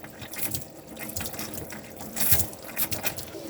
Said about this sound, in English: once that starts running continuous water out the taps, it means the water system is full